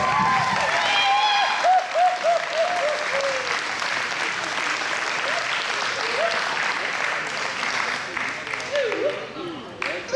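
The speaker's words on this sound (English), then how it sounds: "so give it an extra round of applause" A crowd applauds at an award presentation for a Bavarian folk dance (Plattln) competition in Leavenworth, sustained dense clapping for several seconds with voices and a few cheers mixed in.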